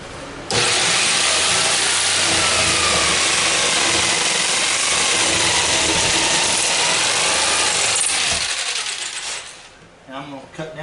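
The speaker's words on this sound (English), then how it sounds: "Made a clean cut on the corner, and I did not mess up my formica around it" Power saw cutting through a formica countertop for a bathroom sink install, a loud, steady whining roar running about eight seconds, then winding down into quieter handling noise.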